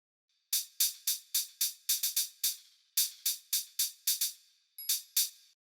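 Closed hi-hats in a live drum mix, dry and centred with no panning movement: a steady run of crisp, bright ticks, about two per second, with a brief gap midway and a short break before a final pair.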